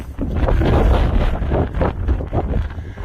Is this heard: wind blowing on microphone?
yes